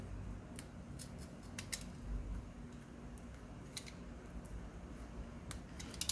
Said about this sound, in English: So now I just need to cut this last little piece.